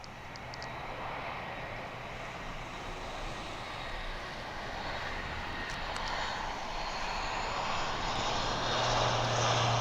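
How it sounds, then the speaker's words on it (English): Propeller aircraft engines at RAF Mildenhall rumble steadily outdoors, a broad continuous drone that swells slightly louder toward the end as the props spin up, heard from a moderate distance with no talk. "Now notice the props. They will start to spin a bit more in a moment as soon as we move away from the sun."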